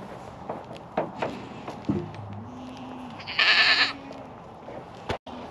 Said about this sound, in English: This black and tan goat, this is Phoebe.